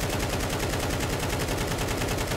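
Sustained rapid automatic gunfire in Counter-Strike 2, a dense rattling burst of shots that runs loud and continuous throughout, with no talking.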